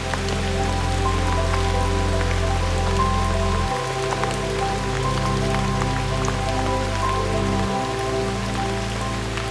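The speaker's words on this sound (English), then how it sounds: "It is full on raining." Heavy rain pouring steadily in a jungle, a dense continuous wash of drops with a low droning hum underneath, loud and unbroken throughout.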